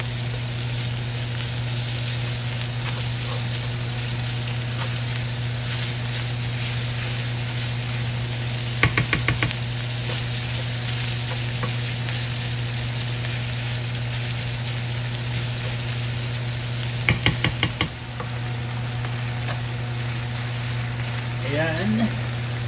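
Ground meat frying in a pan for a Kapampangan pancit luglog gives a steady, dense sizzle throughout under a constant low hum, with two short bursts of rattling stirring clatter midway.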